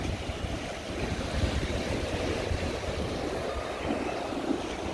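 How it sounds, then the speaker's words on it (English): Choppy, rough seawater surging against the Blackpool seafront with the tide in, a steady rushing wash under gusty wind noise, unbroken and moderately loud, no one speaking. "Sea's pretty rough today."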